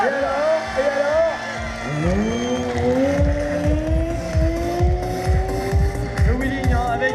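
A vehicle popping a wheelie at the Drag Power Show in Chambley revs hard and close, its engine note climbing steadily in pitch with throttle bursts and a sustained roar throughout.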